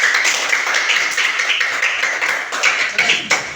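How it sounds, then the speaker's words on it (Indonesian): Classroom applause for a student group, a steady patter of many hands clapping at once, fairly close and even in level throughout, with a few sharper individual claps near the end. "kita beri tepuk tangan dulu untuk kelompok 3"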